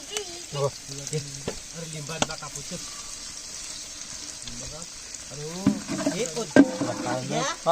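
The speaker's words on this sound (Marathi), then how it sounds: "कांदा चांगला भाजून घेऊ कांदा थोडासा फ्राय होते परतून घ्या" Chopped onion fries and is stirred in a pan while chicken curry is cooked outdoors by a river. A soft sizzle runs steadily under nearby talk, with scrapes and clinks from stirring that grow busier toward the end.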